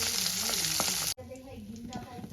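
Eggs frying in hot oil for a Bengali egg curry, a bright continuous sizzle with soft stirring scrapes, cut short and dropping to a quieter crackle midway.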